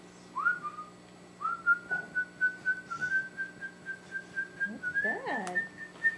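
Someone whistles a long, steady tone close up, with a few faint voices and small background noises underneath, ending in a brief rising warble.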